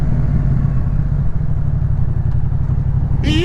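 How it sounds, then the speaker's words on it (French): A scooter passes close behind a car in rainy traffic, its engine a steady near drone under the car's own rumble, with a brief rising whine at the very end. "Putain, je l'avais pas vu le scooter derrière moi."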